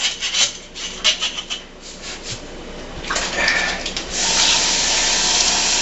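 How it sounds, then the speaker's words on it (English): A brush scrubs the inside of a beer bottle for homebrew bottling, giving close, rhythmic scratchy rubbing strokes that then blend into a steadier rushing swish. "get my bottle down in there and scrub the inside of the bottle"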